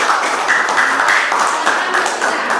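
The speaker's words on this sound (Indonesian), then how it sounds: "Tepuk tangannya." Classroom clapping from students, a dense, steady patter of hands close by and fairly loud throughout, with a faint murmur of voices beneath.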